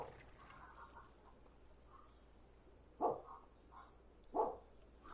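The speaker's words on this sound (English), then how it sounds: "Is the doggy barking back at you?" A dog barks twice, fairly close and loud, with about a second and a half between the barks, over a quiet background with faint murmuring and a low hum.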